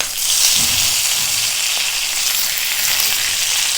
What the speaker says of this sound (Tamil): இப்போ இதில் முந்திரி வறுப்பட்ட பிறகு நான் சேர்க்குறது வந்து கருவேப்பிலை.